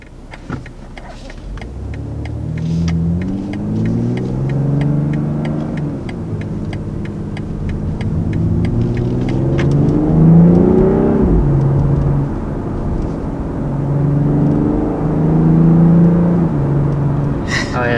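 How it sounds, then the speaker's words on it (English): A 2020 BMW M340i engine accelerating on the road, a steady rising drone with shifting pitch sweeps as revs climb and fall, loud and close throughout, with a light ticking clatter over it early on. "When you get off the throttle, you can listen to it crackle."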